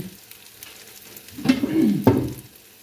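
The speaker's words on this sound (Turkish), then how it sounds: "Az daha kızarsın diye bekliyorum" Green peppers fry in hot oil in a pan in a village kitchen, a soft sizzle that swells into a loud crackle midway, with a sharp clatter of stirring just after.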